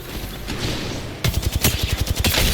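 Video game gunfire from Kraber and Volt weapons: a rapid burst of loud, punchy shots in quick succession follows a moment of quieter background noise.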